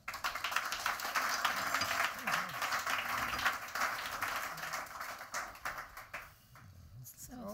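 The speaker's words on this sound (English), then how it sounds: "May I warmly welcome under your applause the four panelists" Audience applause at a sustainable infrastructure panel event, welcoming four panelists onto the stage: steady, dense clapping for several seconds that thins out toward the end.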